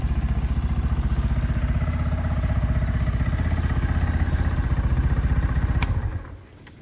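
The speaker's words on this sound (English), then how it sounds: "currently this is a nice sounding riding bike" A Sinnis Outlaw motorcycle engine runs steadily close by with a loud, even rhythmic pulse for several seconds before cutting off abruptly near the end.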